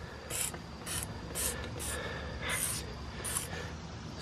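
Short bursts of aerosol spray hiss onto brake parts in a quick, uneven series, seven or so puffs close by, with a low background rumble.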